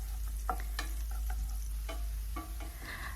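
Crushed garlic stir-frying in olive oil until golden, with a steady soft sizzle under scattered scraping and clinking stirs of a utensil against the pan, close and moderately quiet.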